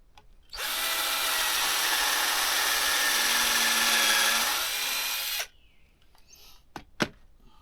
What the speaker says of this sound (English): Got a pre-drill before I could drill.